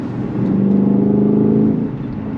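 Ford Mustang Shelby GT500 with a supercharged 5.2-liter V8 in track mode holds a steady, loud mechanical drone close by for a couple of seconds before easing slightly.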